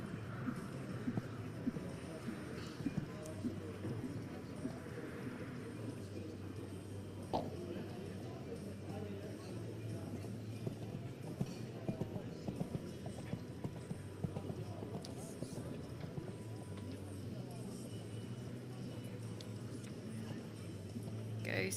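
Dressage horse cantering at an FEI eventing competition, with rhythmic three-beat hoofbeats on an arena surface repeating steadily under a commentator's ongoing talk.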